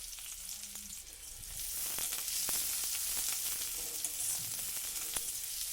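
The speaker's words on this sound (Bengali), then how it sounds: "একটা কেটে রাখা পেঁয়াজ দিয়ে দিলাম তেলের মধ্যে" Chopped onion with whole cumin seeds frying in oil, a soft sizzle that swells into a steady crackling hiss, with occasional light clicks of a utensil against the pan.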